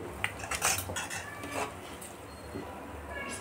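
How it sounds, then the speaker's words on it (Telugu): A metal spoon clinks and scrapes against a cooking pot while stirring sabudana and semiya, several sharp taps and scrapes in quick succession, fairly faint and close. "కదిలిస్తూ ఉండాలి, లేకపోతే గడ్డ కట్టిపోతుంది కింద"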